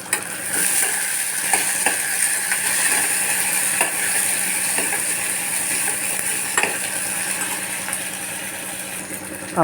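Lentils fry in oil with onions in a pan, a loud, steady sizzle broken by repeated scraping and clicking strokes of a spoon.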